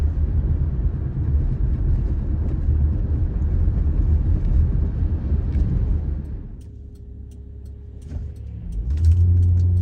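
A 2009 Honda Odyssey minivan with a transmission that had been acting up accelerates onto a highway, a steady loud engine and road roar that dips briefly before building again near the end.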